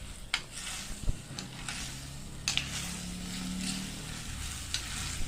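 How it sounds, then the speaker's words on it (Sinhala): Sliced mushrooms for a spicy chilli mushroom dish fry in a pan with a quiet, steady sizzle, punctuated by a few sharp clicks and scrapes of a utensil, heard close with no talking. "බෙදගත්ත මස්රූම් ටික දාගන්නවා"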